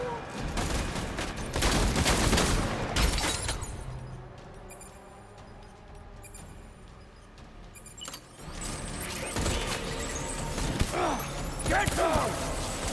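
Bursts of gunfire in the Death Stranding video game, loud clustered shots near the start and again toward the end, with quieter mechanical rattling between and voices shouting over the action.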